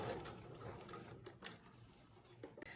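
Sewing machine stitching a pillowcase to the folded edge and back stitching, a quiet steady mechanical whir with faint rhythmic needle ticks and a couple of small clicks, close up, no talking.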